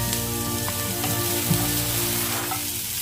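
Vegetable strip mixture with chopped onion sautéing in a hot pan, a steady close sizzle with faint scraping stirs, continuous and fairly loud with no talk.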